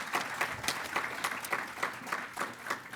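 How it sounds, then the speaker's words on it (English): Audience applause for a panel at a live conference event, a steady patter of many hands clapping with rhythmic bursts, moderately loud and continuous with no talk over it. "Please give them a round of applause for their expertise."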